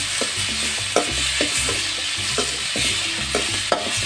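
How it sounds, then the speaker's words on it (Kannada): Onion and tomato fry in oil in a pan on a traditional stove, with a steady sizzle under repeated rhythmic scrapes and clanks of a spoon stirring the mix, close and fairly loud with no talking. "ಉಳ್ಳಾಗಡ್ಡೆ ಟೊಮೆಟೆ ಹಣ್ಣು ಫ್ರೈ ಇದು ಇದು ಚೆನ್ನಾಗಿ ಕೆಂಪುದಾಗಲಿ"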